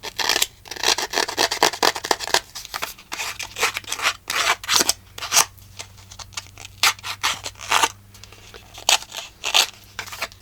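A distressing tool scrapes and roughs the edges of paper cards in quick repeated rasping strokes, close and crisp, in an irregular rhythm with short pauses between passes.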